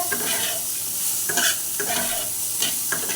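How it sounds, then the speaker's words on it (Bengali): Flat beans stir-fry in a pan with salt and turmeric, a steady close sizzle broken by several sharp scraping bursts as the spatula turns them. "আবার ভালো করে বেশ একটু লাল লাল করে নাড়াচাড়া করা হচ্ছে"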